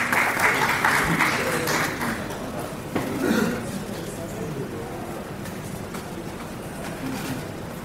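Audience applause welcoming a professor to the stage at a literary gathering, loud clapping at first that thins and fades gradually, with a voice speaking over it.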